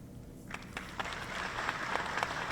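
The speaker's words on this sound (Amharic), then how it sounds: "እንግዲህ ጭብጨባውን መስማት አለባችሁ።" Applause from an audience at a political gathering, building from scattered claps into steady clapping that swells toward the end, moderately distant and fairly soft.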